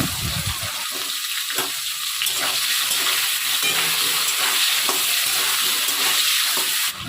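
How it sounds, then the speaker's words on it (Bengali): Cut vegetable stalks fry in hot oil in a wok, giving a steady, fairly loud sizzle and hiss throughout with occasional stirring scrapes and no talking. "ওই তেলের মধ্যে এবার আমি দিয়ে দেব কেটে টুকরো করে রাখা ডাঁটাগুলো দিয়ে ডাঁটাগুলোকেও ভালো করে ভেজে তুলে নেব"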